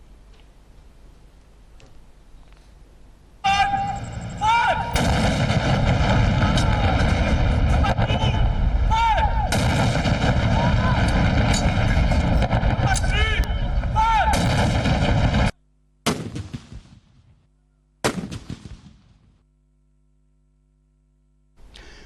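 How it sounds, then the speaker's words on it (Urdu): A ceremonial cannon salute for Pakistan Independence Day booms in heavy, repeated blasts that are loud and continuous for about twelve seconds, then breaks into a few separated reports before fading, with no talking. "وفاقی دارالحکومت اسلام آباد میں 31 جبکہ صوبائی دارالحکومتوں میں 21 توپوں کی سلامی دی گئی"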